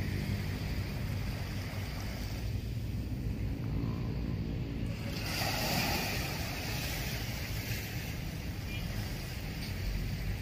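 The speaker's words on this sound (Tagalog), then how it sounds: "Magalaw yung medyo magalaw ng tubig ng dagat" Choppy sea water laps and washes against the Manila Bay shore in a steady rushing roar mixed with wind noise, with a rumble throughout.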